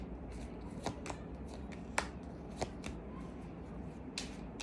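Tarot cards are shuffled close by, soft and quiet, with riffling and sharp snapping flicks at irregular intervals.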